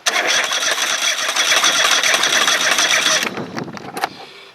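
Craftsman GT5000 riding mower engine cranking and trying to start with an overly rich left bank, a loud dense mechanical clatter for about three seconds that then cuts to scattered faint ticks and clicks.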